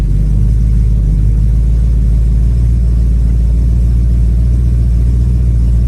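A 1971 Ford Mustang coupe with a 302 V8 and automatic transmission idles loud and close, its deep, steady rumble continuous and even throughout.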